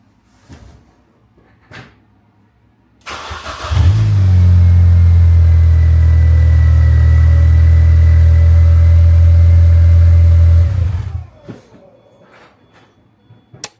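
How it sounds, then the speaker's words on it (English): A Mini Cooper R50 with repaired wiring cranks and fires up after a few faint clicks, then idles with a loud, steady low rumble for about seven seconds before shutting off into quiet. "Now let's try starting the car."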